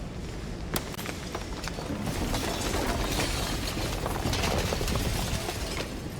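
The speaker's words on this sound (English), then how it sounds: "And then the shattering." Glass shatters in a horror video game, a dense, loud crackle of breaking and scattering fragments that keeps rattling and tinkling across the whole stretch.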